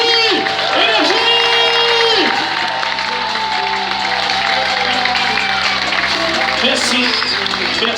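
An audience applauds and cheers at a hypnosis show in a cinema, loud sustained clapping with whoops and shouts, while music plays underneath.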